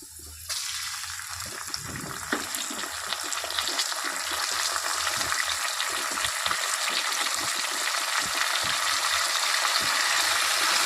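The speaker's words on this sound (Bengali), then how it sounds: "চালটা দিয়ে একটু ভাজা ভাজা মতো করে নিতে হবে।" Soaked rice frying in ghee together with cashews and raisins for Basanti pulao, giving a steady, fairly loud sizzling hiss with small crackles that starts abruptly and continues throughout, with no talking.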